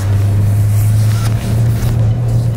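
A Toyota Hilux pickup's engine on a rally run while the driver shifts gears: a loud, steady, close-up drone that holds throughout, with a brief dip partway through and no talking.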